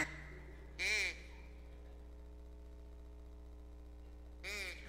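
Two short bursts of voices imitating duck quacks at a church gathering, a near one early and another near the end, separated by quiet hum.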